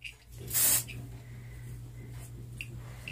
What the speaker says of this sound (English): it is a kind of a texture spray, so you can always spray it at the root